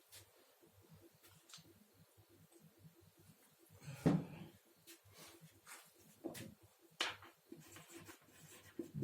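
Marker or chalk writing on a board during a chemistry lecture, intermittent scratchy strokes in short bursts with a few louder taps, close and without talk.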